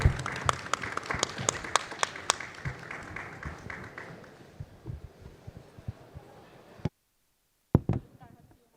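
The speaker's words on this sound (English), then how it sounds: "I'm going to give a round of applause to my fellow panelists" An audience at a conference panel on the UK's innovation ecosystem claps in a burst of applause that thins into scattered claps, with a voice heard briefly near the end.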